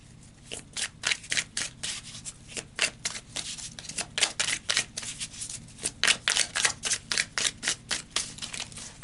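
Tarot cards are shuffled and pulled in a steady run of crisp, rapid riffling bursts, close and fairly loud, repeating rhythmically for several seconds with no talking.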